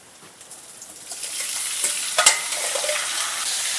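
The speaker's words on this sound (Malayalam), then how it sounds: "ഇനിയിപ്പോൾ അതിൻ്റെ അകത്തോട്ട് നമ്മൾ നാരങ്ങയോട് ചെറുതായിട്ട് വാട്ടിയെടുക്കണം" Salted lemon pieces with curry leaves sauté in hot oil for lemon pickle, a steady broadband sizzle that builds from quiet to loud, with a few spoon scrapes and stirring clinks midway.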